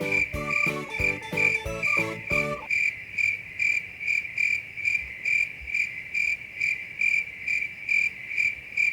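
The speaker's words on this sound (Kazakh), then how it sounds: "Шегіртке." A grasshopper gives rhythmic, evenly spaced chirping pulses, close and steady. Background music plays for the first few seconds before the insect continues alone.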